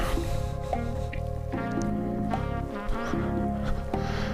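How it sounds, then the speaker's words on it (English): A bubbling mud pot at Ocotillo Wells in the desert, wet squishy plops and gurgles repeating irregularly, close and steady, with no talk. "sometimes it's bubbling a little bit, sometimes it's bubbling more"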